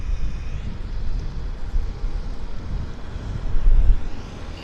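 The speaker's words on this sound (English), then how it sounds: "WestJet flight 166, actually. Pulling out of the, as I say, the WestJet nesting area." A WestJet airliner taxis out from its gate area at Vancouver airport, heard as a steady low engine rumble with a faint whine, fairly distant and blended with outdoor wind noise.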